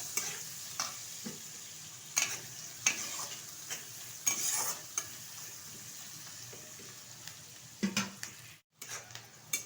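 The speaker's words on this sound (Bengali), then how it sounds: "দিয়ে দিচ্ছি কুচিয়ে রাখা পেঁয়াজ, পেঁয়াজটা হালকা করে ভেজে নেব, খুব বেশি ভাজবো না।" Chopped onions frying lightly in a pan over black cumin seed, a soft steady sizzle with scattered scraping stirs and utensil taps, fairly quiet and close.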